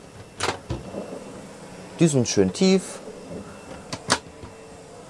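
Drawers pulled open inside a Laika Kosmo L 105 camper give a few short knocks and sliding thumps, close by, scattered between stretches of speech.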